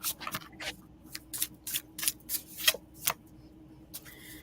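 Oracle cards being shuffled by hand in a series of quick, close riffling and sliding bursts of irregular rhythm, with no talking over them.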